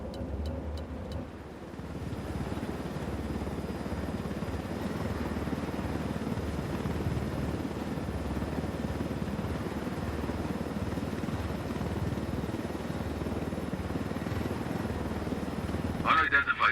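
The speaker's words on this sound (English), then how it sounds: "Unidentified aircraft." Aircraft engine and rotor noise in the video game Ghost Recon Wildlands, a steady loud drone that holds for the whole stretch and sits under game sounds.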